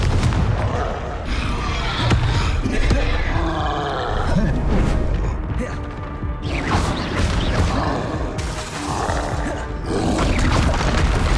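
Repeated Confringo fire-blast spells in Hogwarts Legacy combat, a series of heavy booming bursts and roaring impacts scattered through a busy, loud fight, with a voice speaking over parts of it.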